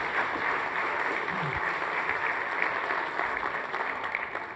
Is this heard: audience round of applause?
yes